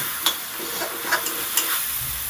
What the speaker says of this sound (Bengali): এবার মশলাটা 2 মিনিট কষিয়ে নেব